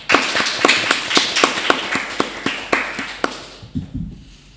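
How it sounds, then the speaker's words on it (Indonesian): Sparse, evenly spaced claps ring out at a casual talk-show taping, a dozen or so sharp hits in a steady rhythm that thins out and stops near the end. "Tepuk tangannya tolong."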